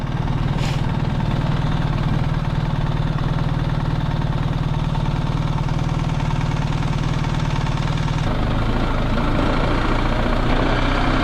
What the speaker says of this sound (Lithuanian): tikrai variklio garsas yra šiek tiek kitoks